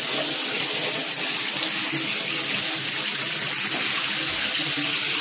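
Shower water runs steadily in a home bathroom, a loud continuous broadband hiss and patter that fills the whole stretch with no talking.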